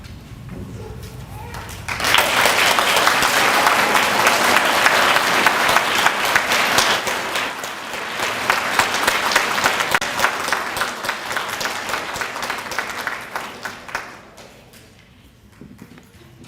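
Health sciences graduates at a Nash Community College recognition ceremony receive a big round of applause from the audience; dense clapping swells in after a quiet start, holds for about twelve seconds, then fades out.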